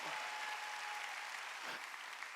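A church congregation applauds during a sermon, with dense, steady clapping from many hands that holds at an even level for a couple of seconds before thinning slightly at the end.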